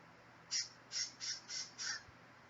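A pet bird gives five loud, harsh squawks in an even rhythm, each short and close, with short gaps between them and no talking over them.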